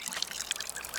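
A brief watering trickle in Botany Manor as a spring dance shrub seedling is watered: a short, light splashing dribble, close and fairly soft, with no talking.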